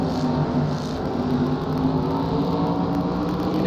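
Onboard engine of an MG Modified Tour race car at Watkins Glen, a loud continuous close-up roar with steady whirring drone throughout, no voices.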